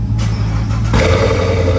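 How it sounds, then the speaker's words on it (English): A rebuilt Corvette engine with a new exhaust runs close and loud, a steady low rumble that swells into a harder rev about halfway through and holds there. "what this new exhaust sounds like. I think it's gonna sound like a Camaro."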